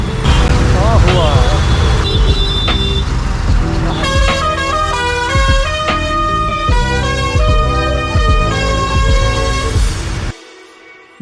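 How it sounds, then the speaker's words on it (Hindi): Truck horns honk in a highway traffic jam, loud, close, sustained tonal blasts with multi-note melodic patterns over engine and road noise, ending abruptly near the end. "क्या हॉर्न है ट्रक का।"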